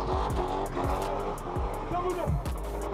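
A BMW with a V8 revving hard and spinning its wheels in tire smoke, engine roar layered with squealing tires, steady and loud throughout, with voices talking over it.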